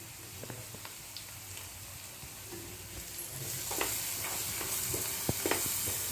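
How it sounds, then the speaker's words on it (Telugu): Fish frying in a pan with turmeric and salt gives a soft, steady sizzle with scattered crackles and a few stirring scrapes, quiet and close, growing slightly brighter toward the end. "ఇదంతా ఫ్రై అవుతుంది కదా"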